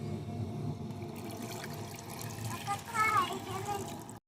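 Hot water runs into a bowl for a rice flour batter for chitoi pitha, a steady close pouring wash with a brighter trickling stretch near the end before it cuts off.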